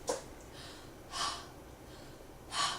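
A singing teacher demonstrates abdominal breathing with three spaced, airy breaths, each a soft, close hiss of inhaled air over a quiet room, with no talking.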